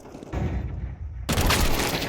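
Gunfire rattles in Counter-Strike 2 during a professional esports match, Cloud9 versus Complexity at IEM Sydney 2023, with a burst of shots that swells into heavier, louder firing midway and no clear speech.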